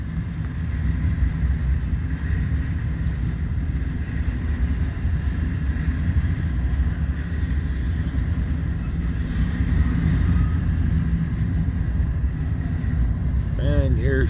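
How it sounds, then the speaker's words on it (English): A short eastbound BNSF stack train rolls past close by in Fremont, Nebraska, producing a steady, unbroken low rumble that stays level throughout. "On this very short eastbound stack train, there ain't much to this"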